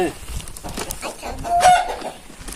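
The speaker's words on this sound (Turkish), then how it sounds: "Bu da tavuk aldık eve götüreceğiz." Chickens cluck and call close by in a rural farmyard near a barn, a continuous run of short clucks with one brief louder squawk, over faint background noise.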